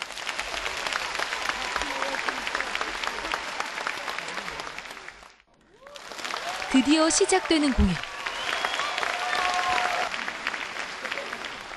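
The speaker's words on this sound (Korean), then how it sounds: "관중들의 박수갈채를 받으며 김덕수 씨와 한울림 예술단이 무대 위로 올랐습니다." A festival crowd applauds as Kim Duk-soo and the Hanullim samulnori troupe take the stage, dense clapping running throughout and dipping briefly midway, with a voice speaking over it.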